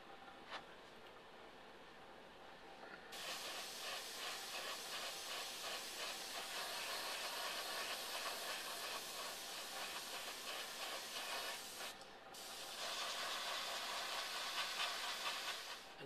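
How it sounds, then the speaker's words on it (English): Steady airbrush hiss as weathering paint is sprayed onto the sides of a 60-foot hi-cube model boxcar, starting softly, swelling to a loud continuous spray, briefly cutting out near the end, then resuming. "that's the basic airbrushing of the weathering"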